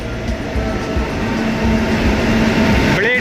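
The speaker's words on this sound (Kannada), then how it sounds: "ಈಗ ವಿಶ್ವಮಾನವ ಟ್ರೈನ್ ಬರುತ್ತೆ ನೋಡಿ, ಎಕ್ಸ್ಪ್ರೆಸ್ ಟ್ರೈನ್ ನೋಡಿ" The Vishwamanava Express rolls into Davangere railway station with a loud, steady rumble and hum of rail cars close by, and a short rising tone near the end.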